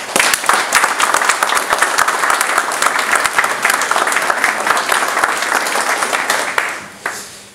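An audience at a Sainte-Barbe fire brigade ceremony gives loud, sustained applause. The dense clapping holds steady for about seven seconds and then fades out quickly.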